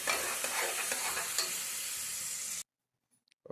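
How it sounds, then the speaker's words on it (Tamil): Onions stirred while frying for mutton biryani, an even close hiss with light spatula scrapes that cuts off abruptly into near silence, broken only by a few faint clicks at the end. "வெங்காயம் நல்லா பொன்னிறமாக வர வரையும் நம்ம கிளறி விட்டுக்கலாம்"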